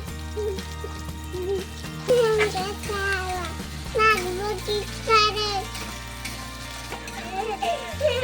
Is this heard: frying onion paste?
yes